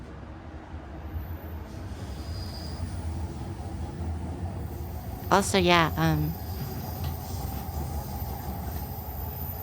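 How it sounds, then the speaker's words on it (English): A train passes loudly with a sharp, brief squeal of wheels near the middle, over a constant rumbling background while a person talks. "Train so loud."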